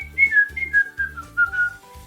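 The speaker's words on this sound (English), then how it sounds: "I hear a zookeeper whistling in my ear." A zookeeper whistles a short, wavering tune close by, several clear pitched notes that slide downward, heard alone.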